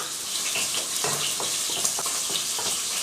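Onions and tomatoes sauté in a pan for a sardine fish curry, a steady close hiss of frying with faint intermittent stirring taps throughout.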